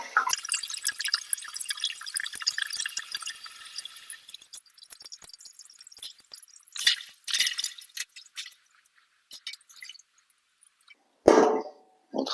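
Lavender gin infusion is poured carefully into a still, giving a thin hissing trickle of liquid that fades, then scattered drips and splashes, with a louder glassy splash near the end.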